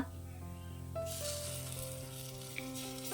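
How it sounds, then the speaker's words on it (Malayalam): Ground beetroot paste hisses and sizzles in a hot pan, a bright sizzle rising and continuing steadily; no talking. "ഇനി ഇതിലോട്ട് അരച്ചു വെച്ചിരിക്കുന്ന ബീറ്റ്റൂട്ട് ചേർക്കുക."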